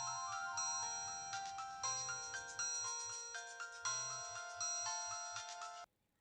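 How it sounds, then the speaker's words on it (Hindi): An electronic phone ringtone repeats its looping melodic phrase several times, clear and close with no voices, then cuts off abruptly near the end. "फोन बज रहा है।"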